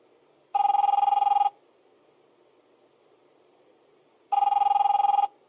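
An in-game telephone in The Wolf Among Us rings twice, each loud electronic trill lasting about a second, separated by a few seconds of quiet.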